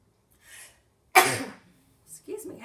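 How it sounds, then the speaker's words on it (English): A man gives a single loud, sharp sneeze close to the microphone, preceded by a faint breathy intake and followed by a few soft murmured sounds. "hate sneezing on my video"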